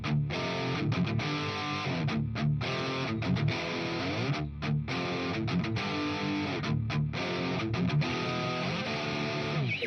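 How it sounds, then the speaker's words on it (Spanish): Heavily distorted high-gain electric guitar through a Mesa Boogie amplifier and Marshall 4x12 cabinet plays dense, loud chugging riffs with brief rhythmic stops, continuous and alone. "Así es como suena el amplificador y la cabina."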